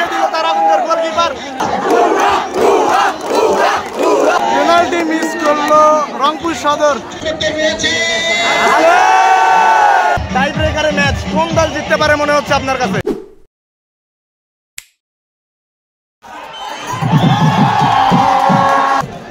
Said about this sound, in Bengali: স্বাগতিক রংপুর সদরকে সমর্থন দেওয়ার জন্য উপচে পড়া ভিড় রংপুর জেলা স্টেডিয়াম